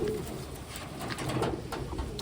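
Pigeons coo softly within a busy, noisy bird-keeping setting, the low murmuring calls blending into constant background clatter and chatter of other birds.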